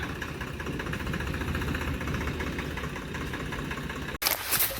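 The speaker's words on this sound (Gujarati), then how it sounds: "તો ફાઇનલી ટ્રેક્ટર આવી ચૂક્યું છે" A tractor engine runs at a steady idle, a low, rhythmic diesel rumble heard close and continuous, briefly broken by a cut and a louder burst at the end, with no voices.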